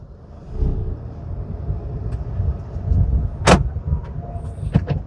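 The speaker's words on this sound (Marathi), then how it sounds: "गाडीचे जे पहिला जो आवाज आला तो गाडीचे डोर जे ते लॉक झालेले" Door locks of a 2018 Honda City top model engage in a sharp mechanical clunk inside the quiet cabin, followed by a couple of lighter clicks over low hum.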